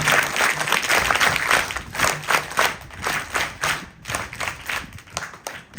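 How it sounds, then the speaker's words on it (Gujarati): Audience at a primary school welcome event gives loud, sustained applause, many hands clapping steadily close by and tapering into rhythmic bursts toward the end. "તાળી પાડીએ જોરદાર."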